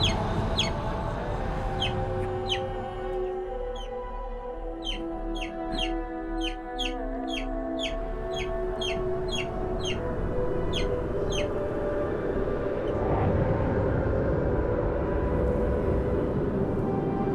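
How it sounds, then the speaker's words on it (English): Pet baby chick peeping loudly and insistently, a rapid run of sharp, high chirps in quick bursts, close to the listener over a low background hum, with no voices. "Baby chirping so loud"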